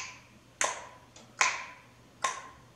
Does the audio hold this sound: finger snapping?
yes